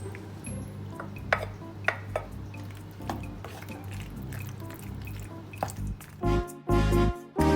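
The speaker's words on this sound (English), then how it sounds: "I am going to combine the cooked pasta into the cheese sauce." Cooked pasta being stirred into a cheese sauce for baked mac and cheese, giving soft wet squishing and dripping with occasional utensil clinks against the pot, close and fairly quiet, louder sloppy mixing near the end.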